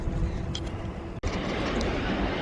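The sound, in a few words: freight train passing on main line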